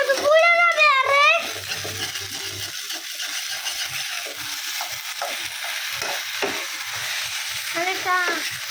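A roast sizzles loudly in a very hot pan, with stirring scrapes and clinks through the middle, while someone talks briefly at the start and again near the end.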